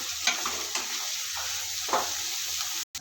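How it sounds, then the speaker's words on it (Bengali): Onions and green chillies fry in oil in a pan for a country chicken curry, a steady close sizzle with occasional stirring scrapes and a brief dropout near the end. "দিয়ে পেঁয়াজটাকে ভাজা ভাজা করে নেব"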